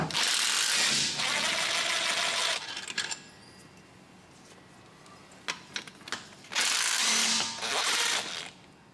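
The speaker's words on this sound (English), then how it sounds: "looks like we're gonna have to remove our starter, which is no big deal as it is just two 13mm bolts" A ratchet works loose the two 13mm starter bolts during an LS engine swap, with two sustained bursts of rapid clicking separated by a quieter stretch of scattered metallic taps.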